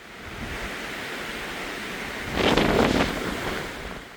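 Strong wind gusts across a coastal mountain trail in Goseong, South Korea, making a continuous roaring rush that buffets the microphone and swells louder near the end, with no one speaking.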